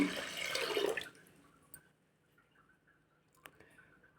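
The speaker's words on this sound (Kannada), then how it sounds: "ಅದೇ ಲೋಟದಲ್ಲಿ ಒಂದು 6 ಲೋಟ ನೀರು ಸೇರಿಸ್ತಾ ಇದ್ದೀನಿ" Water pours from a tumbler into washed rice and toor dal for about a second, a splashing gush that stops abruptly, followed by quiet drips and small clinks.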